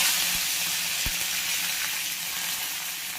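Steady, hissing sizzle of mustard and fennel seeds crackling in hot oil, with a few sharp pops and clicks scattered through the continuous frying noise.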